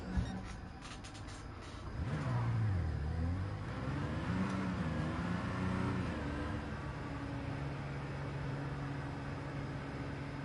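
A Daihatsu Copen's engine revs in a racing game, rising and falling in pitch through a turn before settling into a steady drone, fairly quiet with a faint voice over it.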